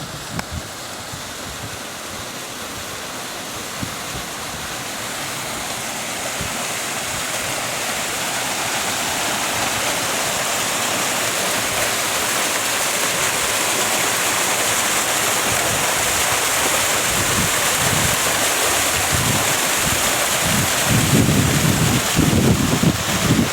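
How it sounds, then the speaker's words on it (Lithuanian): Water rushes and splashes outdoors in Kananaskis, a steady broadband roar that slowly grows louder, with gusts of wind buffeting the microphone toward the end; no one speaks. "Vanduo tyška."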